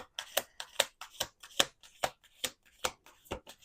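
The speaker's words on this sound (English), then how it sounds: "we're going to do one last shuffle" A deck of tarot cards being shuffled up close, in about nine quick crisp riffles with short pauses between them, alone and fairly quiet.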